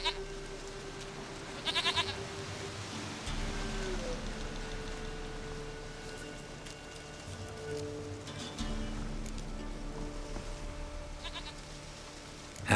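A goat in The Witcher 3 bleats in a few short, close calls over a steady bed of rain and ambient game sound, with a soft voice murmuring at times.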